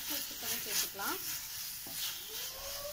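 Cabbage manchurian with capsicum and tomato sauce sizzles in a pan while a spoon stirs and scrapes through it, a soft continuous fry with light clinks, close and gentle.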